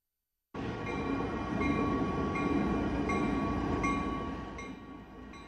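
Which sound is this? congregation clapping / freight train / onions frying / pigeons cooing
freight train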